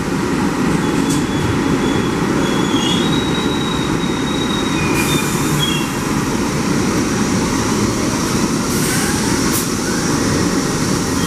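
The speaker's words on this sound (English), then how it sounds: "this is gonna be my next train" A loud New York subway train rumbles steadily close by at the new South Ferry terminal, with high metallic wheel squeals cutting in over the roar.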